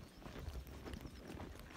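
Hooves of a Tennessee Walking Horse clip-clop steadily in a close, muffled patter over a dense background rumble, with no voices.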